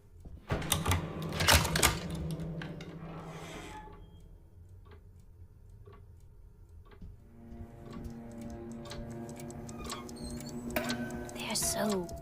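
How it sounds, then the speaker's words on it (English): Old typewriter in the Alone in the Dark horror game, tapped in irregular clacks and ticks, with louder mechanical clatter at the start and near the end, over faint background ambience. "I'm touching your typewriter"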